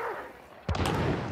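A single sharp, booming gunshot in the video game Hunt, preceded by a short quiet stretch and followed by a lingering rumble and echo.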